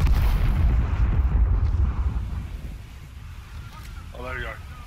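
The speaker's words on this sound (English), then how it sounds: "Napalm coming in." Heavy rumbling napalm explosion in the Vietnam-era shooter Rising Storm 2, with a deep roar that fades gradually, and players talking over it.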